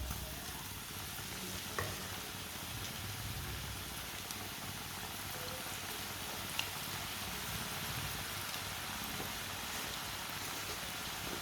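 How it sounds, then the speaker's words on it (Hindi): Potato chips frying in hot oil, a steady close sizzle and crackle that holds evenly throughout with occasional small pops. "ऑयल हमारा अच्छी तरह गर्म हो चुका है। अब इसमें चिप्सें डालेंगे।"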